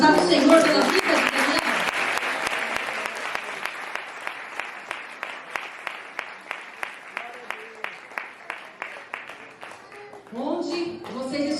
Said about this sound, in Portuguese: Vamos dar uma salva de palmas ao Senhor pela vida de Daniel.